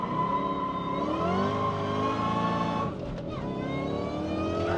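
A supercharged Ford Terminator Cobra engine revs hard with a high supercharger whine rising over the roar, loud and close, dipping briefly between gear changes.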